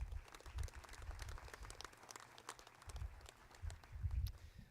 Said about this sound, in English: Will you please give Senator Mullins a round of applause?